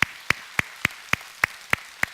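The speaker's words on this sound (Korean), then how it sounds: "우리 하나님께 영광의 박수 올리겠습니다" A church congregation claps in unison, eight sharp, evenly spaced claps about a third of a second apart, fairly faint and with no other sound between them.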